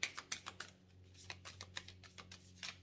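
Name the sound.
shuffling tarot cards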